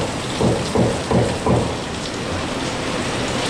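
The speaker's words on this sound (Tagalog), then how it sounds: "mas maganda yung flow ng tubig kapag umuulan" Heavy rain pours steadily with water running off a stainless gutter, with a few low thumping bursts early on before the downpour settles into a constant hiss.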